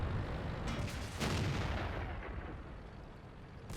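Tank cannon fire in World of Tanks, with booming shots and rumbling impacts around one second in, followed by a fading low rumble of battle.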